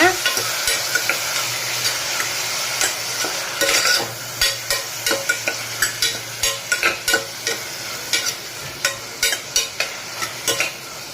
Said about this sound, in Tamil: இப்போ அதையே நல்லா இப்போ ஒரு வதக்கி வதக்கி விடுங்க